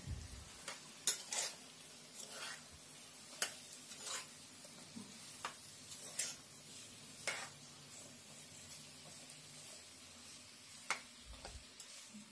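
Bottle gourd curry is stirred in a pot, the utensil scraping and tapping against the sides at irregular intervals over a faint, low sizzle, close but quiet.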